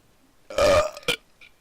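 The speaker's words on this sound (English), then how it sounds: "Can either of you burp on command?" A burp done on command, one short, loud belch with a quick second gulp right after, then a faint tail, set against near silence.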